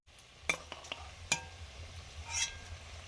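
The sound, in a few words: potatoes frying in a pan for biryani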